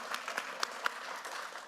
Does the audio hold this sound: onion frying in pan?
no